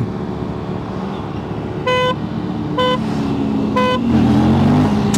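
An Aprilia RS457 motorcycle engine drones steadily in second gear and rises toward the end, while three short, sharp horn toots cut through the traffic noise.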